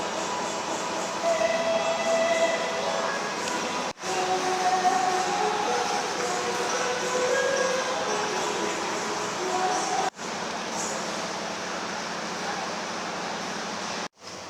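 Inside the economy carriage of the Brantas passenger train pulling into Madiun station, a steady rumbling rail roar with faint squeals and a few abrupt dropouts, no talking.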